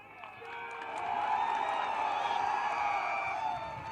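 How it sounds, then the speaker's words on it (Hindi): Crowd at a political rally in India gives a warm welcome, clapping and raising slogans; a broad, steady roar of applause and voices swells after the first second and holds loud and dense. "आप लोगों ने तालियां बजाकर, नारे लगाकर बहुत ही गर्मजोशी के साथ स्वागत किया है"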